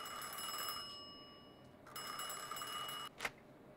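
A telephone rings in the video game Mafia 2, with two bright, bell-like ring bursts separated by a short pause and a brief sharp click near the end.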